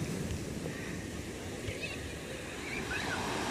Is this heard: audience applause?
no